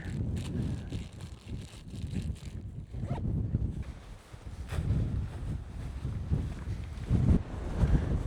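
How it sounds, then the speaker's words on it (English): Gusty wind buffets the microphone on top of Longaford Tor on Dartmoor, with loud low rumbling blasts that rise and fall in uneven surges across the whole clip, with no talking. "Here we are on top of Longaford Tor, and you can tell it's a bit breezy"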